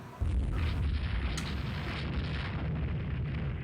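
Torpedo hits on the warship Montcalm in the naval video game Rule the Waves 2, a sudden deep explosion followed by a sustained roaring rumble with a second burst midway, loud and heavy.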